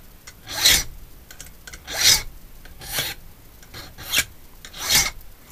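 A key blank filed by hand, five distinct rasping strokes, each about half a second long, evenly spaced and close, with quiet pauses between and no voices.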